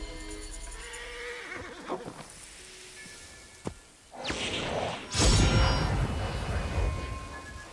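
A horse whinnies amid game-like ambient sounds in Assassin's Creed Origins, followed by whooshing and a louder rumbling burst near the end; no talking.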